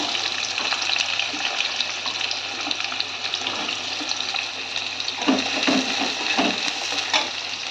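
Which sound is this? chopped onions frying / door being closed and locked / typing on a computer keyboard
chopped onions frying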